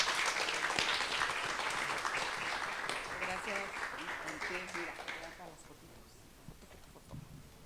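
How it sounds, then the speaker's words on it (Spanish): Applause from an audience at a literary anthology presentation, dense steady clapping that fades out over several seconds, with a voice briefly audible beneath it. "Aplauso también."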